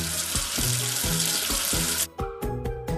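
Tap water runs steadily into a sink to rinse soap away, a close, hissing splash that lasts about two seconds before cutting off and giving way to light tonal music.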